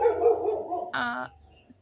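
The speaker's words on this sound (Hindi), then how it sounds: "जिमी भौंकते लगे।" A dog barks once, a short close yelp following a muffled low whine or grumble, then a faint squeak as it fades in an indoor room.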